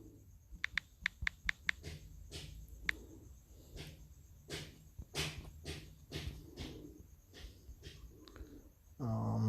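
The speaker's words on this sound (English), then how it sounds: "let me just type it real here" Keys clatter on a computer keyboard in a quick burst of about half a dozen sharp taps, followed by scattered, uneven keystrokes over a faint room hiss.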